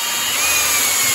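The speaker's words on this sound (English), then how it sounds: "I like to take a wire brush inside of my drill." A drill spinning a wire brush scrubs the live edge of a wood board, giving a loud, steady, gritty whir with a scraping hiss that holds for the whole moment.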